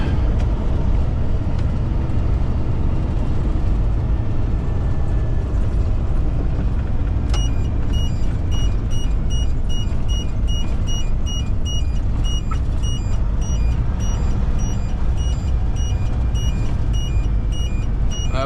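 A truck hauling a long load rolls over a bumpy road, its engine and road rumble loud and steady throughout, with a repeating high electronic beep joining about halfway in.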